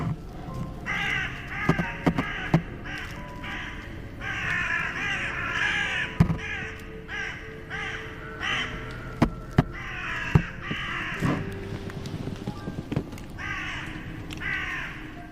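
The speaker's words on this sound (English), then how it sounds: "Something disturbs the crows, causing them to call loudly" A group of crows caws loudly and repeatedly in the woods at a campsite, harsh overlapping calls in ragged bursts, some close and some farther off, with occasional knocks and thumps between them.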